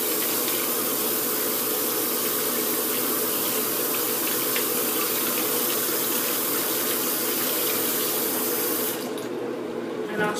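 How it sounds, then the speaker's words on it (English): Tap water runs steadily into a sink while a makeup brush is washed, a continuous close splashing rush that cuts off abruptly near the end. "Let's wash the brush"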